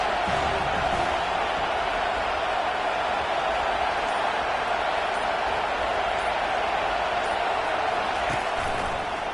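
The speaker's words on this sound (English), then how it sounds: "Decibels rising as the crowd gets behind this defense on third down." A college football stadium crowd at Arkansas versus USC roars for the home defense on third down, a dense, loud, sustained wash of cheering that holds steady throughout with no distinct breaks.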